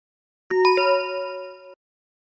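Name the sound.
dog's bell ringing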